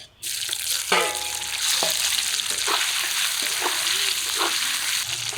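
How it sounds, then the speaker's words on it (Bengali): Pieces of shol fish fry in oil in a wok with a dense, steady sizzle that runs throughout, along with a few clinks and scrapes from a spatula near by. "নামিয়ে দিয়ে বাকিগুলো ভাজবো"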